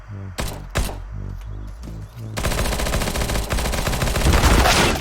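Gunfire in a shooter video game: a few sharp separate shots ring out first, then a sustained loud stream of rapid automatic fire takes over and continues to the end, with no speech.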